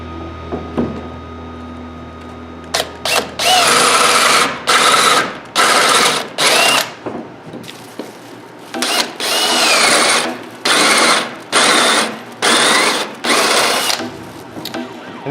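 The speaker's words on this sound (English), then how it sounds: "and then go ahead and drill on through" A power drill bores a countersink hole through steel channel, running in repeated loud bursts with short pauses between, close up, after a quiet start of light handling sounds.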